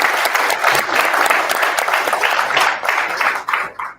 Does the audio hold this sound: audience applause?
yes